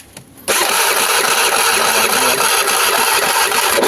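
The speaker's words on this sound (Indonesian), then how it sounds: "ini double starter juga sudah berfungsi kan" A carbureted Honda Vario 110 motorcycle with ignition and charging faults cranks on its electric starter, then catches into a loud, steady close-up engine run after a brief quiet start.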